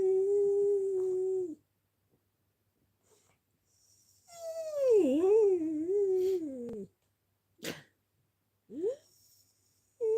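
A dog whines in long, wavering high-pitched cries near a bonfire at night, with a sustained whine at the start, a longer bending whimper in the middle and short yelps after brief pauses, close and fairly loud.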